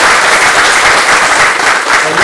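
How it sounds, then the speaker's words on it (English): A seminar audience bursts into loud, sustained applause, with many hands clapping in a dense, even roar that carries through the whole stretch without pause. "Give her a little round of applause."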